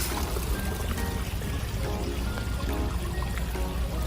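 Continuous splashing and trickling water from a decorative waterfall at an outdoor plant market, steady and close with a busy background.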